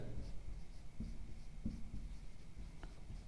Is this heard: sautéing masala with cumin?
no